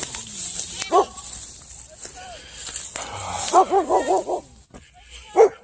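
Dogs bark and yip in several quick bursts, a cluster of sharp barks in the middle and another near the end, outdoors over a faint background hiss.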